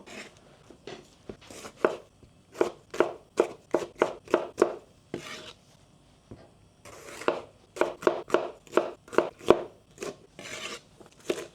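Colourful capsicums being chopped with a knife on a wooden board for a Cantonese prawn dish, a steady run of crisp knife strikes in two bursts with a short pause between, close and clear.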